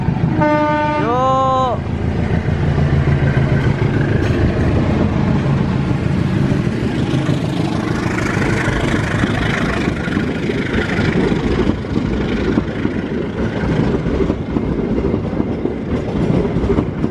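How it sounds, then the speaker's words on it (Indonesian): The Serayu Pagi train departs Cibatu station in Indonesia. A horn blasts briefly near the start, then the train rumbles loudly and continuously with clattering wheels as it pulls away close by. "Kereta api Serayu Pagi diberangkatkan dari Stasiun Cibatu terlebih dahulu dibanding KAIS ya."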